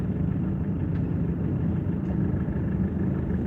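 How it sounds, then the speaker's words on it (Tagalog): A car engine idles in heavy early-morning traffic, a steady low rumble close by with no change in pitch and no talking. "Grabe ang traffic."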